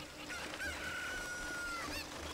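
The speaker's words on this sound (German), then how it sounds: "Huhn!" A chicken in Zelda: Ocarina of Time Master Quest clucks and gives a drawn-out squawk. The sound is short, faint and close, with no talk over it.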